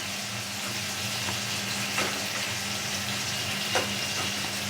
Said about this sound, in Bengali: তেলের মধ্যে সব পটলটুকু দিয়ে নুন দিয়ে আমি ভাজলাম।